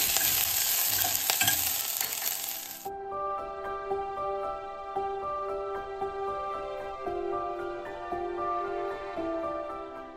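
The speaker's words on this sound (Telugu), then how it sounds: "ఇందులో కొంచెం ఆయిల్ వేసుకొని ఫస్ట్ అల్లం, వెల్లుల్లి, గ్రీన్ చిల్లీ ముక్కలు ఇవన్నీ వేసుకొని చక్కగా ఫ్రై చేసుకోవాలి" Ginger, garlic, green chilli and spring onion frying in oil: a loud, bright sizzle opens, then settles into a steadier frying hiss with scraping stirs throughout, alone with no voices.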